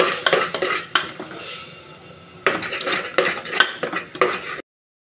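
Ground paste and spices for kadalai curry sautéed in a pan, with rhythmic scraping and clanking of a metal spoon against the pan over a low sizzle, close and busy, then an abrupt cut to silence.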